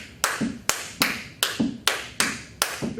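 A 3-note clave pattern tapped by hand, sharp close taps repeating in a steady rhythmic cycle of three beats with gaps, clear and solo with no talking.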